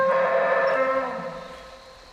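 A pachycephalosaur's call in Jurassic Park Hunter Legends, a loud, low, moo-like tonal bellow held for about a second before fading into quieter ambience.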